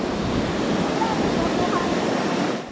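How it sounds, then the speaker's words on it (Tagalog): Strong storm-driven ocean waves roar continuously in Zambales, a loud, dense wash of surf mixed with wind buffeting the microphone. "malakas ang alon dito"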